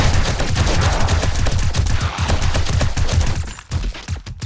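Rapid, sustained automatic gunfire in the game 7 Days to Die, Rebirth mod, rattles loud and close while shooting down a screamer zombie, then briefly breaks up near the end.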